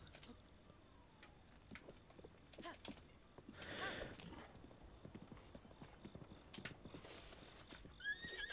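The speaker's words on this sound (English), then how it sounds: "Let's get on Mr. Horse again." A horse in the video game Zelda: Breath of the Wild trots with steady clip-clop hoofbeats, interrupted by bright whinnies, the clearest one close to the end, with no speech over it.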